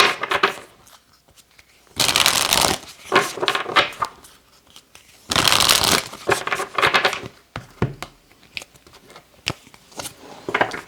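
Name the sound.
shuffling oracle cards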